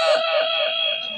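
A person imitates a rooster crowing in a sustained, high, strained vocal call lasting about a second, loud and close, performed on request during a staged telling of the Ahilya story.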